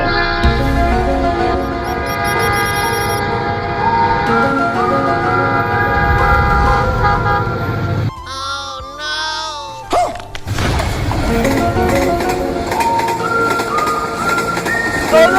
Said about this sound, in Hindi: ट्रेन आ गई यार